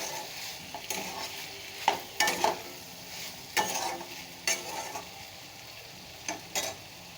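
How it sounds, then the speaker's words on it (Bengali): Ridge gourd being stirred as it fries in oil in a wok, a soft sizzle broken by repeated scraping strokes of a spatula against the metal, close and unhurried without voices. "ঝিঙেটা দিয়েও সুন্দরভাবে নাড়াচাড়া করে নেব"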